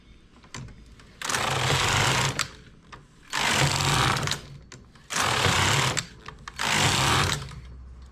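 A domestic knitting machine fitted with a ribber works a simple stitch, its carriage swept across in four loud, rasping passes of roughly a second and a half each, with short quiet pauses and small clicks between them.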